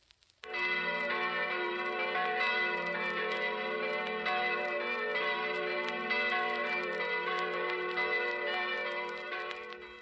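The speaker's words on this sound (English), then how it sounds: "Many churches have bells that chime to tell time, and they sound like this." A large church bell chiming the time rings out loud and sustained, its rich layered tones humming continuously for several seconds before slowly fading.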